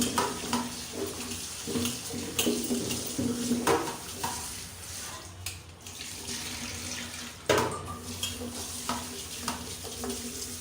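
Running tap water splashes over an item being rinsed clean at a kitchen sink, a steady close wash with brief louder gushes and handling clatter, no voices.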